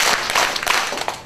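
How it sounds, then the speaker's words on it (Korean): An audience in a lecture hall on village-building in Suncheon taps fingers together in a light, patter-like clapping, with a few rhythmic bursts standing out over about a second, fairly close and even in loudness. "손가락 박수 3번 시작!"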